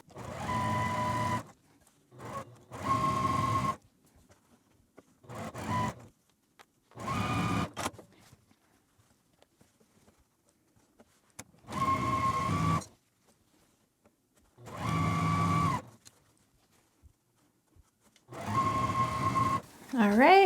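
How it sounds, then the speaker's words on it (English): Sewing machine stitching a quilt block seam in short bursts of fast whirring, about eight separate runs with silent pauses between them. "we're just going to take this to the sewing machine and sew down this side"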